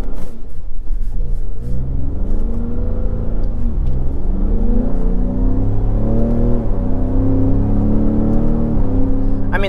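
A Ford Raptor truck with a 10-speed automatic accelerates hard, its engine rising in pitch and then dropping at each paddle-shifted gear change, several shifts in a row, loud and close from inside the cab.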